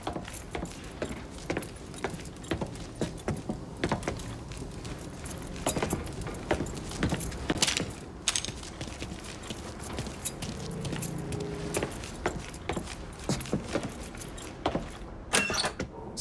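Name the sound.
keys jangling being picked up in Mafia 3 video game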